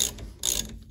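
A hand ratchet clicks in two quick bursts of rapid pawl ticks, close and crisp, while removing rear brake caliper bolts on a Mazda MX-5 NC; no speech.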